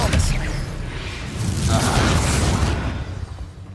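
An Expelliarmus spell going off in Hogwarts Legacy, a booming magical burst with a whoosh that swells and then fades, close and loud, with a voice over it.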